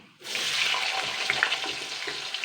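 Potatoes dropped into hot oil in a pan burst into a loud, dense sizzle that starts abruptly and holds steady, close up, with faint crackles and no voices.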